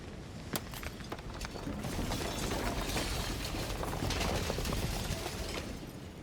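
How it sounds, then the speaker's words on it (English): Something shattering in the game Slay the Princess: a dense, glassy crackle of breaking fragments with scattered sharp clicks, steady and fairly quiet, swelling slightly in the middle, with no voice over it. "And then the shattering."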